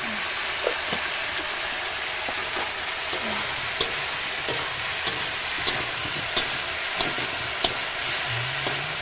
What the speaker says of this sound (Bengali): আরও পাঁচ মিনিট আমি কুমড়োটাকে ভালোভাবে কষিয়ে নেবো